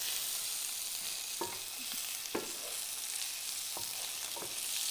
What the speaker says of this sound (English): I'm gonna grab this garlic and throw it in the pan